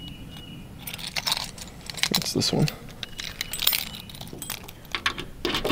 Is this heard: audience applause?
no